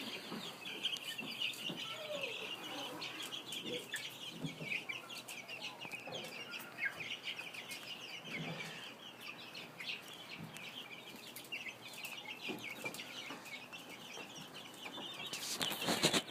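Meat and egg chickens cluck and chirp continuously in a brooder pen, a busy overlapping chatter of many birds with scattered sharper peeps, steady throughout and slightly louder near the end.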